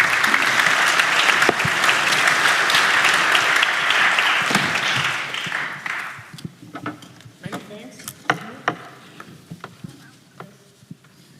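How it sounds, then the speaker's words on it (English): A conference audience at the Luxembourg Capital Markets Day gives the panelists a loud round of applause that holds for several seconds, then tapers into a few scattered claps and faint room noise. "So a big round of applause for the panelists, please."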